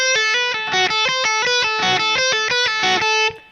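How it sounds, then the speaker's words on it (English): Distorted electric guitar plays a fast flowing lick, smooth slurred notes mixed with picked ones, loud and close, ending with a brief fade. "But with the added hammer-on pull-off,"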